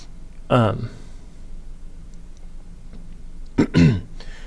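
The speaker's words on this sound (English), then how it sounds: "I had to clear my throat" Someone clears their throat twice, a rough guttural rasp near the microphone, with quiet room noise between.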